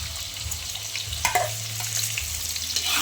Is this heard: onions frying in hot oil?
yes